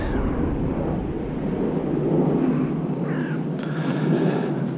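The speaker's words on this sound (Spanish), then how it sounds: "A ver si escucha ruido de los cuervos." Crows cawing in Tromsø, Norway, a few short harsh calls toward the end, fairly distant, over steady outdoor wind and low traffic rumble.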